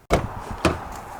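A cup holder armrest in a 2023 Lexus GX 460 Black Line opens with a soft thump and clunk, then latches again a half second later with a second muffled knock, heard close up inside the cabin.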